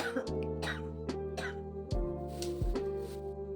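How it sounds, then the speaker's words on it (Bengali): Someone with a bad cough and an itchy throat coughs and clears their throat several times in close, rough bursts. A low steady hum runs underneath, and there is a little voice sound between the coughs. "এত কাশি হয়ে গেছে, গলাটা শুধু খুসখুস করছে।"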